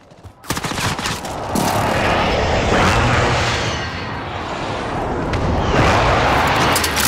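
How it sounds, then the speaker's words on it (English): Precision airstrike explosions in Call of Duty Warzone, a loud burst of detonations followed by a sustained roaring barrage of rolling blasts and rumble that swells again near the end. "Friendly precision airstrike inbound."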